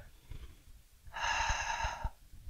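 Close human breath drawn and released, a soft, airy rushing lasting about a second, heard alone against quiet low background noise.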